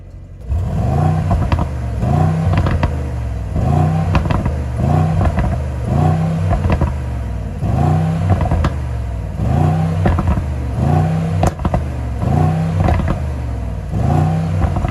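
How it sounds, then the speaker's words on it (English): A 2021 Mercedes-AMG GLE 63 S in Sport Plus mode revs its engine repeatedly, loud and close. Rhythmic surges of deep growl rise and fall about every two seconds, with crackling on the overrun. "I love how AMG managed to get the best sound for the GLE63 S"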